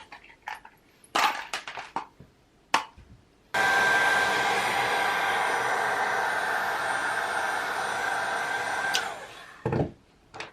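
A hair dryer blows steadily for several seconds, heating the contact adhesive on a Strathearn Audio SLC3 speaker part. It runs as a loud, continuous whoosh, bracketed by short knocks and handling sounds before and after.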